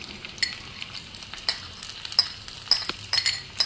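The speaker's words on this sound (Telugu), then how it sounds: "కొబ్బరి ముక్కలు కొంచెంగా వేగుతూ ఉన్నాయి కదా" Thin coconut pieces fry in hot ghee, giving a steady close sizzle, with repeated stirring scrapes and light clinks of a utensil against the pan.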